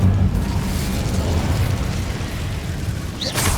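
The Incendio fire spell from Hogwarts Legacy goes off as a loud, sustained whooshing roar of flames. A bright crackling burst rises near the end, with no speech.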